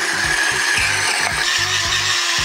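A mini hand-pulled vegetable chopper slicing carrots, with a steady run of quick rhythmic rasping, whirring strokes at close range, repeating about five times, with no talking over them.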